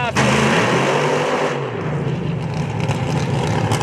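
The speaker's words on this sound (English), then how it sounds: "My favorite sounds in drag racing right there when it changes over to nitromethane" A loud, roaring nitromethane-fueled drag racing car engine rumbles close by at Darana Motorsports Park, its pitch shifting as it revs, with a harsh crackling edge, while voices are faintly mixed underneath.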